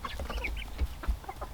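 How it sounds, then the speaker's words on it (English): Chickens eating spilled feed on a farm, several birds making soft, close, rapid clucks and murmuring calls over a low background rumble. "these chickens are loving it"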